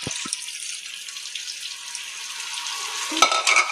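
Dissolved tamarind water pouring into a simmering curry, heard as a steady close wet hiss and sizzle with a couple of soft knocks, ending in a brief splash and stir.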